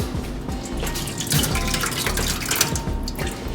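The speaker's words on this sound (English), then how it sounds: "Rinse it with some water" Tap water runs steadily over freshly cooked, starchy boba pearls sitting in a strainer, a close, continuous splashing and trickle with brief louder spurts near the middle and toward the end.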